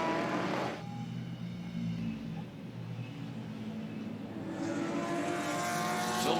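Race cars crossing the line at Mid-Ohio, with vintage Corvettes, Camaros and Vipers in the field: loud engine roar passing by, fading into a lower drone before another car's engine rises toward the end.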